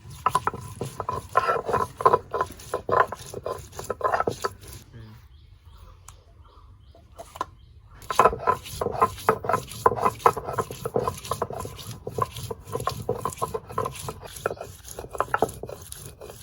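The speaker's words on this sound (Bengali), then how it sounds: "প্রথমে আমি আদা আর জিরে একসঙ্গে বেটে নেব" Ginger and cumin ground together on a stone: loud, rhythmic scraping and rubbing strokes in steady bursts, with a short quiet pause midway before the grinding resumes.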